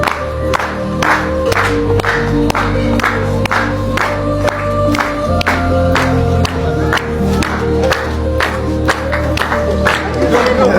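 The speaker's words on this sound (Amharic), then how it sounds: "እስኪ ጭብጨባ አስብላችሁ" An audience at a formal ceremony claps loudly and steadily for about ten seconds, dense applause with a few cheers and whoops mixed in.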